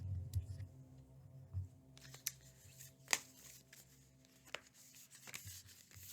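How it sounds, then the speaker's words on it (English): Tarot cards being shuffled by hand in a quiet room: soft, faint riffling and scattered sharp card taps over a low background hum, with no talk. "I have to shuffle the cards"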